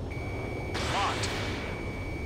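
A missile lock-on tone in the jet combat game Ace Combat 7: a steady, unbroken electronic tone held against a roaring engine background, with a brief louder burst in the middle.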